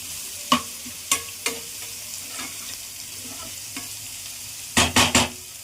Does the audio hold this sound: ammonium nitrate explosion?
no